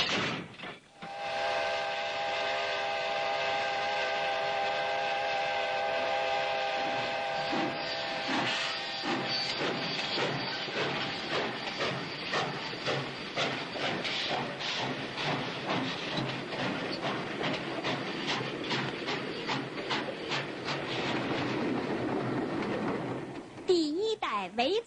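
A 1965 train on a railway line in China's far northwest sounds a long whistle, then runs on with a steady, rhythmic clatter of wheels that fades out at the end.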